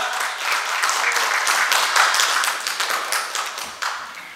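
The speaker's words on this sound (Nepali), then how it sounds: "जोरदार तालीका साथ उहाँलाई स्वागत गरिदिनु होला।" Audience applause welcomes senior leader Rajendra Mahato onto the stage at a political gathering in Kathmandu, a dense steady wash of many hands clapping that holds loud throughout and tapers slightly at the end.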